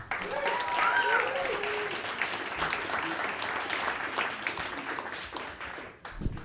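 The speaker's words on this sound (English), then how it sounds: "Please give a big round of applause for the very funny Luke Young." A comedy club audience at a pro-am stand-up night applauds a comedian coming to the stage, a steady wash of clapping and some whoops that holds for several seconds and then tapers off.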